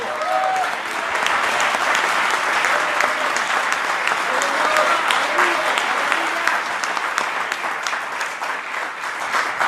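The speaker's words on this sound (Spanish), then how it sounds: "aplauda al Señor por eso" Church congregation applauding the Lord during a sermon: a loud, continuous crackle of many hands clapping at once, sustained for several seconds, with voices calling out beneath it.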